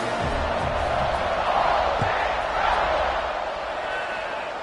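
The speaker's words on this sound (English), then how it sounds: "this crowd is buzzing after that last score" A crowd at a football game before a kickoff, a dense steady buzz of many voices that swells slightly midway and carries on throughout, with a few faint thuds underneath.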